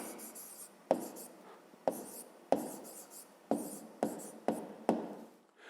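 A pen writes an answer on paper for a fifth-grade maths exercise: seven quick, close strokes in an irregular rhythm, each a sharp scratch fading into soft scraping in a quiet room.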